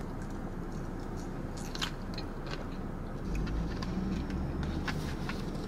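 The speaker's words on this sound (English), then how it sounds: "Are the crunches satisfying?" Someone eats a Subway salad, producing soft, close crunching and chewing bites scattered over a steady background hiss, with no talking.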